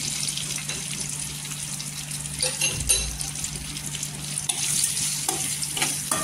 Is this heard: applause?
no